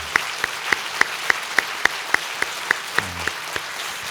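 A church congregation at a Wednesday daytime service claps in steady unison, sharp evenly spaced beats about three or four per second running throughout, fairly close and clear over a low room hum.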